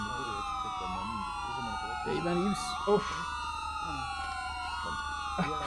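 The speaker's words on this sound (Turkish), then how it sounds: "Sevgili arkadaşlar araçların sirenlerini kapatalım." Police car sirens wail continuously in a roleplay video game, with several overlapping tones rising and falling under a man's speech.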